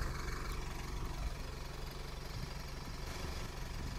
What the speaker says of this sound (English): So with the engine now running,